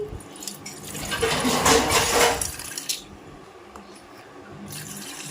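Water poured into a vessel to mix jaggery for sweet dosa batter, a splashing pour that swells for about two seconds and then fades into quiet trickling, close and without talk.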